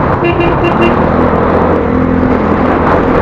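Steady, loud drone of a fuel-efficient loaded motorcycle engine during a road trip, running close up and continuously with a constant hum and no talk.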